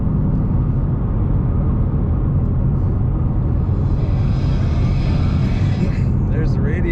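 A 2019 Ford Mustang GT coupe cruising in fifth gear, its engine a steady low rumble with road noise heard from inside the cabin, continuous and fairly loud throughout.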